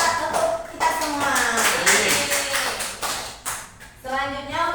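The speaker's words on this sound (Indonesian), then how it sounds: "Tepuk tangan untuk kita semua." A classroom of students claps hands together during an Indonesian teaching demonstration on lightning rods, fairly close and uneven bursts of clapping mixed with shuffling and a few voices murmuring underneath.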